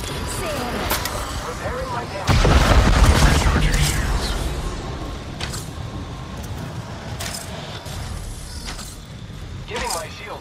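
Rapid gunfire bursts from Apex Legends gameplay, a dense loud volley starting around two seconds in and fading over the next few seconds, with sharper isolated shots later, all under game noise and a player's voice.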